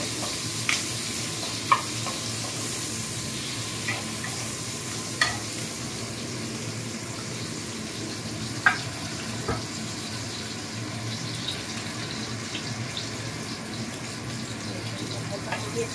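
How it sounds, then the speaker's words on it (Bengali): Chicken pieces fry lightly in a pan with a continuous soft sizzle, broken by occasional sharp scrapes and clinks as they are stirred; the sound stays moderate and close throughout. "ভালো করে নাড়াচাড়া করবো, খুব বেশি ভাজবো না, হালকাই ভাজবো।"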